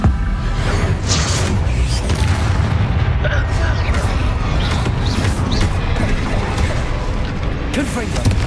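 Confringo blasting spells exploding in a Hogwarts Legacy fight: loud, continuous booming blasts and mechanical clatter piling up without pause, close and dense.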